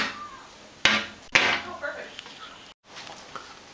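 A can of Spam is opened at a kitchen counter, with a couple of sharp metallic clicks and snaps from the pull-tab lid, followed by softer handling noises and a brief silence.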